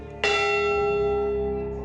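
The memorial bell for the Edmund Fitzgerald is struck once, a loud deep toll with a rich sustained ring that decays slowly.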